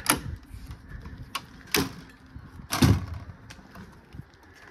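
Door of a 2018 Kodiak Cub 185MB light aircraft being opened, giving a few sharp clicks and latch knocks spread over several seconds, close and moderately quiet, with no talking.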